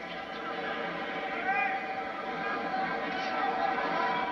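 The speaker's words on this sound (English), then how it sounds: "Crowd now asking for a little more from these two." Crowd noise at a boxing match between Charles Murray and Livingstone Bramble, a steady murmur of voices with scattered calls urging the fighters to do more, with no clear speech on top.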